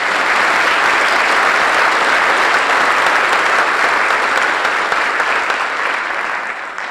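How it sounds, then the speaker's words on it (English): A high school spring band and vocal concert audience applauds, a dense, loud, sustained burst of clapping from the crowd that carries evenly and begins to fade at the very end. "Let's give it up for Andrew."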